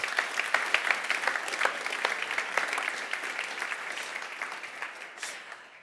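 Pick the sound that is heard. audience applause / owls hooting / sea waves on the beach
audience applause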